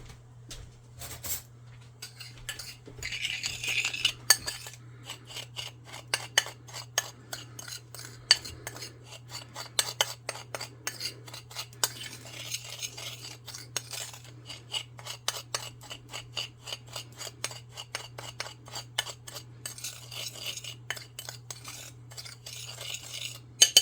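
A spoon scrapes and stirs in a dish while noodle casserole ingredients are mixed with a little oil: a long run of rapid, raspy scratching and clinks, fairly close and continuous, with a steady low hum underneath and no talk.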